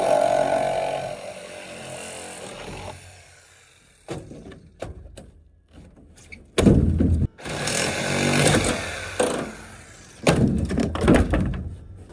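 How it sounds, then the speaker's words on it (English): Air chisel chipping foam from the edge of a boat hull during demolition, with sharp pneumatic bursts and hammering stretches alternating with knocks, thunks and quieter pauses, close and loud. "Using this air chisel to get the rest of the foam around the edge here."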